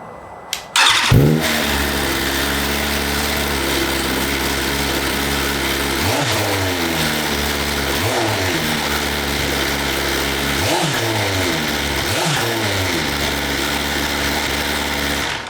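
A 2022 BMW S1000RR with its factory exhaust cold-starts with a sharp crank and catch, then settles into a loud, steady idle broken by several quick throttle blips that rise and fall.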